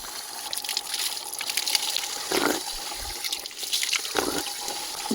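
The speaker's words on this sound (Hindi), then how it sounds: "बांस के जंगलों से ये पानी आता है" Spring water fed from bamboo forests above a high Himalayan village in Uttarakhand, running steadily from a spout into a stone basin, a continuous splashing trickle heard up close.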